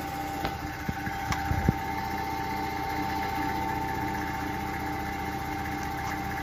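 A vacuum evaporation coating machine switched on and running, giving a steady mechanical hum with a high whine, after a few clicks and thumps at the start.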